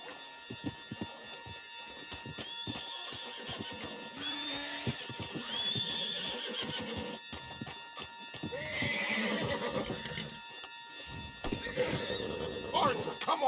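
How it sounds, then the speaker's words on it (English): In Red Dead Redemption 2, a horse whinnies and its hooves clip-clop close by, with loud snorting neighs and steady hoof beats as people talk urgently over them. "Get him on the horse and let's go."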